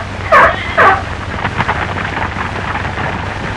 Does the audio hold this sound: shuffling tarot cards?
no